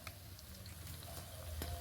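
Quiet, even crackle of sweets frying in oil throughout, faint and close, with a brief clink near the end; no talking.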